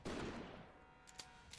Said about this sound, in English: a gunshot fires and the soldier is thrown aside